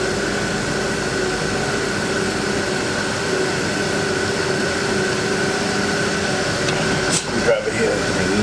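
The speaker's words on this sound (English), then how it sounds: "you'll hear this click, you'll hear the solenoid open up" An HVAC unit hums with a steady fan drone and faint tonal whine, and a short click from the solenoid opening comes near the end. A voice talks over the mechanical noise.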